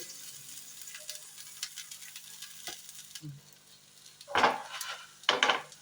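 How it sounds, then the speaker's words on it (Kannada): Vegetables for a tomato bread omelette sizzling in a pan over a low gas flame, a soft steady fry punctuated by scraping stirs and a couple of louder spatula clatters near the end. "ಇದನ್ನು ಫ್ರೈ ಮಾಡುವಾಗ ಒಂದು 3 ನಿಮಿಷ 2 ನಿಮಿಷ ಫ್ರೈ ಆದರೆ ಸಾಕು"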